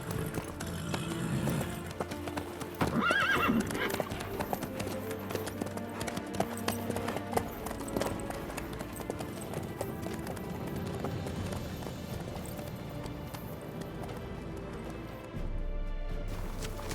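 Horse hooves clip-clop steadily through The Witcher 3 game scene, a continuous trotting rhythm sitting under dense music and ambient sound for the whole stretch.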